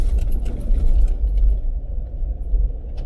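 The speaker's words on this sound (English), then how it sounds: "It's pretty bumpy here, and it's a gravel road." Car driving along a bumpy gravel road in wet Icelandic countryside near Gljúfrabúi, a steady loud low rumble of tyres and engine with crunchy jolts throughout.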